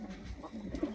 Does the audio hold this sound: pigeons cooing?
yes